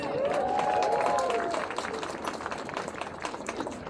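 A crowd at the Toronto Pride flag raising applauds loudly, with a rising cheer or whoop early on, before the clapping thins out and fades.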